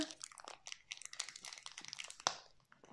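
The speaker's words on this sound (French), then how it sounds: "Est-ce qu'avec ça, j'arrive à casser le sac" A plastic bag is poked and torn open with a lollipop, giving soft crinkling and crunching with scattered small tears and one sharper rip near the end, all quiet and close.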